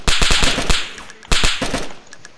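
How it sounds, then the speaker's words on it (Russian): Automatic gunfire in the video game DayZ during a battle in Vibor: two loud, rapid bursts of sharp shots, each lasting under a second, separated by a brief fading echo. "Это кто, наш стреляет?"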